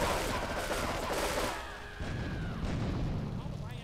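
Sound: gunfire in the video game Grand Theft Auto 3

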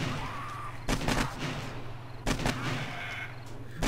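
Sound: gunfire shooting zombies in video game 7 Days to Die

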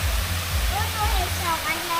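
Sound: rock waterfall

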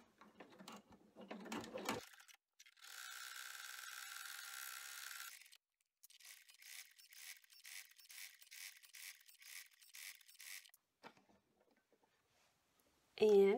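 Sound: embroidery machine running a stitch on a sanitizer bottle case

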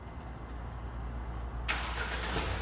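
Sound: Jetour T2 car engine starting via remote start

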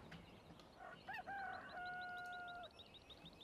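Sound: rooster crowing in Farming Simulator 15 video game

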